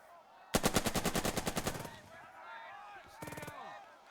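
Machine gun fire in the WWII strategy game Burden of Command: a loud, rapid burst of about a dozen evenly spaced shots, then a pause and a second, shorter burst of a few rounds, with faint game ambience between.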